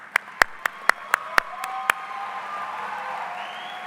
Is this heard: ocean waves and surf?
no